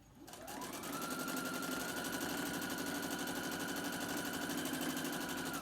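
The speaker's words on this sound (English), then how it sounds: "now I'm going to stitch back on that other side" A sewing machine stitches a mini quilt piece, revving up quickly and then running in a fast, steady mechanical whir, loud and close with no talk.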